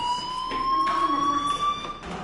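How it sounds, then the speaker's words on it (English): A fire alarm in the game Life is Strange gives a steady, high electronic tone with faint harmonics, held continuously at moderate loudness, with a few soft background thuds and no voices. "Hey, do you hear that fire alarm?"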